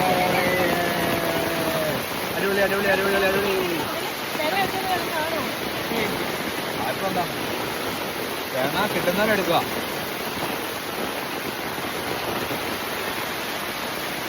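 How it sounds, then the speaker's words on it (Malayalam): Heavy downpour roars as a steady broadband wash through the whole stretch while people talk excitedly over it, outdoors during a coconut-gathering outing. "പൂരമഴയാണ്. പൂരമഴ, മഴ മഴ മഴ മഴ മഴ."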